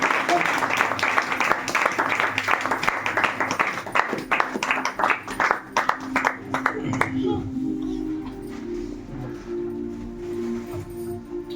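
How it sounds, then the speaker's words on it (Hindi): A church congregation at a special meeting claps to welcome a guest, a dense round of applause for about seven seconds that fades, with voices and a low hum taking over afterward. "आज रातों के लिए भी तालियों से स्वागत"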